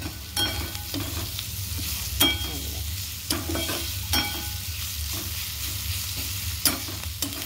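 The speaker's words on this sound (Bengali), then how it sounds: "ভাজা ভাজা একটু হোক, পেঁয়াজ আর হচ্ছে গিয়ে লঙ্কা কুচিয়ে দিয়েছি" Sliced onions and chopped green chillies sizzle steadily in a hot pan, with a spoon scraping and knocking against it every second or so, close up.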